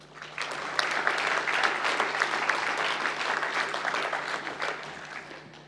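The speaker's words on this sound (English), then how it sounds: "please also offer a round of applause for your parents and friends" A large audience at a SIM – University of Wollongong graduation ceremony applauds parents and friends, with sustained, dense clapping that swells quickly and holds steady before easing slightly near the end.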